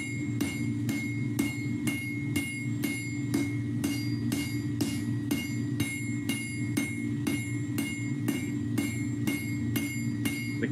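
A hammer forges a square point on a hot bar held at a slight angle on an anvil, striking in a steady, evenly spaced series of sharp ringing metallic blows, loud and close, with no talking.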